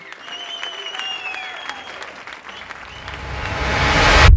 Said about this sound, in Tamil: ரோபோ சங்கர் அவர்களுக்கு ஒரு பலத்த கைத்தட்டல் கொடுத்தலாம்